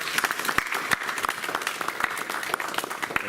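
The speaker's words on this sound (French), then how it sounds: "j'aimerais bien qu'on les applaudisse" Audience applause for boxers representing their club at a boxing event, a steady dense patter of many hands clapping throughout, fairly close and full.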